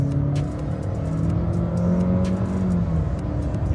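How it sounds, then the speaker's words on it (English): A Chery Omoda 5 compact SUV's engine revs on a straight road, a steady loud drone with rising harmonic tones as the revs climb, heard from inside the cabin with no talking. "I'm going to start revving."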